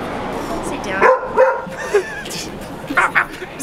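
Several short dog barks and yips come in bursts at close range, mixed with people chatting in a busy café setting.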